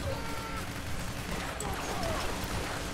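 Gunfire crackles in a dense, continuous fusillade during a bank heist in the video game PAYDAY: The Heist, with steady rumbling game noise underneath and players talking over it.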